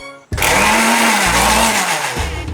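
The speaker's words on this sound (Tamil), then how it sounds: "திக்கான தயிரை வந்து மிக்சர் ஜாரில் போட்டு ஒரு ட்ரிப் பண்ணி வச்சுக்கலாம்" A kitchen mixer grinder whirs loudly as it blends thick curd in its jar, starting abruptly and running steadily for about two seconds with a slight pitch dip midway, close and without speech.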